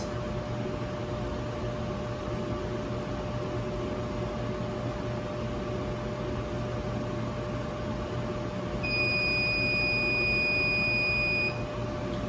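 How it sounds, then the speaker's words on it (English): A CNC mill's FAGOR controller sounds a steady high electronic beep near the end as the tool touches off, over a constant machine hum and fan noise with a faint tonal whine. "I'm slowly gonna bring my Z down 1 thou at a time until I hear that buzzing or beeping noise"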